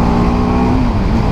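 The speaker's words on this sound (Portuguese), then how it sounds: "O único defeito até agora nesta moto é mesmo o barulho do escape" A BMW G310R motorcycle exhaust drones loudly and steadily at close range, a rough, constant engine tone that dips slightly in pitch near the end.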